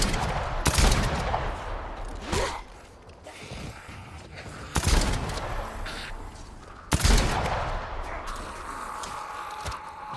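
A shotgun blasting at zombies in the video game Dead Island 2: three or four loud, sharp booms spaced a couple of seconds apart, with clattering, mechanical game noise filling the gaps between shots.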